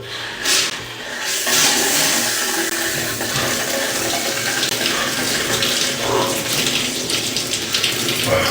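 A cold shower runs with a continuous loud rushing spray of water, close and steady throughout with no talking.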